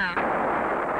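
A fighter aircraft making a rocket firing run at a rocket range, heard as a loud, sustained roaring rush of fired rockets that sweeps in sharply after a brief opening tone and fills the remaining second.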